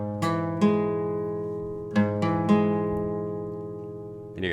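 Electric or acoustic guitar chords from a song, a few separate strums that ring out close and clear and fade slowly between strikes, with one more strum at the very end.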